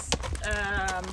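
Quarter horse walking slowly, hooves clip-clopping in a soft uneven rhythm, close and moderately loud, with a short sharp knock near the start.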